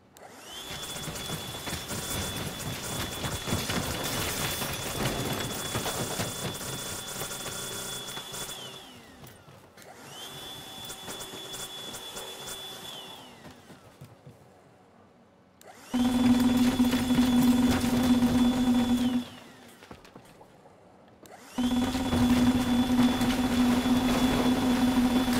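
An overpowered vacuum cleaner mod in the video game Teardown roars in loud bursts of rushing suction noise that start and stop, with a sharper whining tone in the later bursts.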